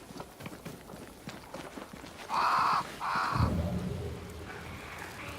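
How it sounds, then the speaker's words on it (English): Crows caw near a large tree in two loud, harsh calls in quick succession, followed by lower rustling and thuds over faint background noise. "Crows."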